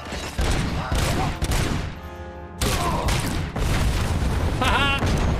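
A grenade goes off in the first-person shooter Robocop Rogue City amid loud, dense bursts of gunfire and booming blasts, all close and heavy, with a voice talking over parts of the action.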